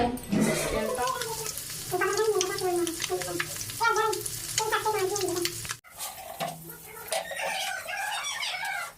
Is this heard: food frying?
yes